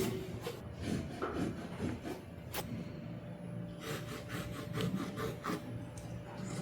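A cutter carves a V-groove into gypsum board, giving a close, steady rasping scrape with repeated strokes and a few sharp clicks over several seconds, with no voices.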